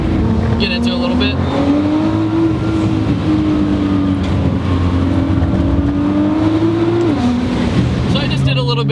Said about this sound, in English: So I just did a little bit of turning while a little bit on throttle